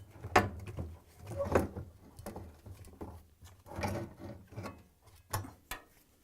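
Bolts on an LG/Kenmore washing machine are worked loose with a 10mm socket wrench, giving faint, irregular ratcheting clicks and metallic knocks with a few sharper clanks, close by and quiet.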